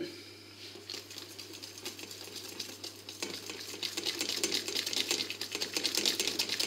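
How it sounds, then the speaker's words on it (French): Cake batter for a savoury mackerel loaf being stirred right after oil is added, a steady wet scraping and swishing that builds slightly louder toward the end, with no talking. "On mélange bien comme il faut."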